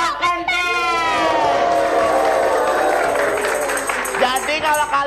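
A live audience at an Indonesian dangdut TV show shouts and cheers loudly, a sustained wash of raised voices and whoops with scattered clapping, holding steady throughout.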